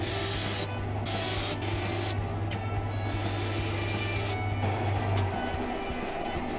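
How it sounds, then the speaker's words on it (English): Wood being cut on a belt saw, heard as a loud continuous whirring and rasping drone with a steady low hum, close and unbroken for the whole stretch. "Belt saw time."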